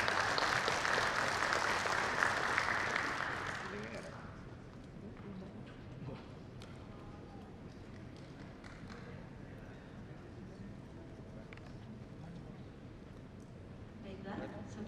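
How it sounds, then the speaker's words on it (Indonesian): Lively audience applause at a corporate client gathering rings out for a few seconds, then fades into a quieter room with scattered claps and murmuring voices. "Kita berikan tepuk tangan yang meriah."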